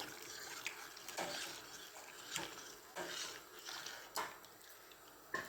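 Tinned milk being stirred into javvarisi (sago) payasam in a pot, a soft wet swishing with several brief scraping strokes of the spoon, quiet and close, no voices.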